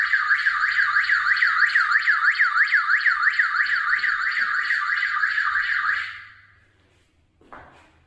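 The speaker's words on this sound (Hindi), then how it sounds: "तो ये देखिए यहाँ से ये सायरन बजने लग गया।" A Hikvision DS-2CE72D0T-PIRXF PIR turret camera's built-in siren, set off by motion, wails in a loud, rapid rising-falling sweep for about six seconds, then cuts out, followed by a brief faint clunk.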